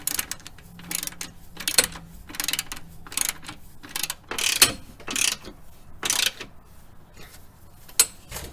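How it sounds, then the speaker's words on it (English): A ratchet tightens suspension hardware on a 1999-2004 Jeep Grand Cherokee WJ, with close bursts of rapid clicking in uneven strokes, separated by brief pauses and a few sharp knocks. "I'm going to get this hardware tightened down"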